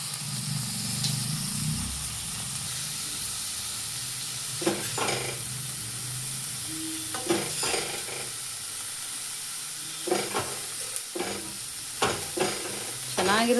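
Dill leaves tossed into a pan of cooked onions for a mung bean palya, with a steady close sizzle of frying and intermittent scraping stirs of a spatula; no talking.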